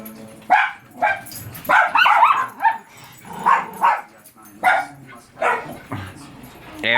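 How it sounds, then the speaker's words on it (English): Several dogs playing together bark and yip repeatedly in bursts, close and loud, with a person talking in between the barks. "Everybody's barking."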